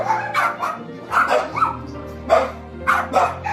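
A dog with weak, trembling hind legs barks in a snowy outdoor setting, a series of close, fairly loud barks and yips in irregular bursts, with some low background noise.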